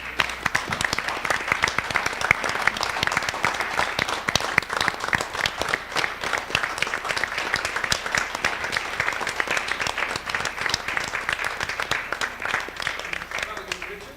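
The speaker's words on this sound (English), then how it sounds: "Let's give them all a big round of applause" At a school board of education meeting, the audience gives a long round of applause, even, continuous clapping from a modest crowd in a room.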